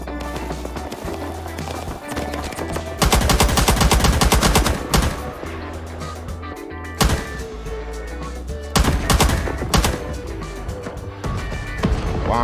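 Video game gunfire crackles in rapid automatic bursts and single shots, loud and repeated throughout, with several heavy clusters of shooting separated by brief quieter gaps.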